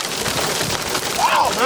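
Dense, steady patter of hail pelting surfaces during a severe thunderstorm in Chino, a loud close clatter mixed with gusty wind and a brief excited voice.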